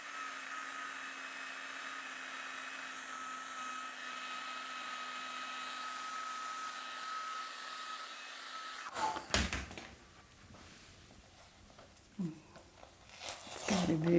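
A hair dryer blows steadily for about nine seconds, drying a watercolour painting done with a palette knife, then cuts off and gives way to handling noises and soft rustling.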